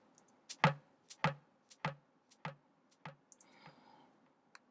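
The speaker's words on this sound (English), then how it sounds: "with a very exaggerated delayed percussion like this one" Exaggerated delayed percussion in a tropical chill house style: about six sharp, evenly spaced clicky hits, each trailing a short echo, then a softer smeared tail as the pattern fades, heard alone.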